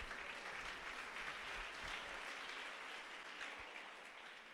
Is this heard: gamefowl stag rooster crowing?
no